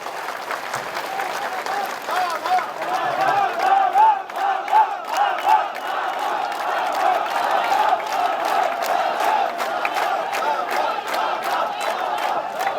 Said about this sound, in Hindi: तालियों की गड़गड़ाहट से शिवराज सिंह जी की स्वागत करें।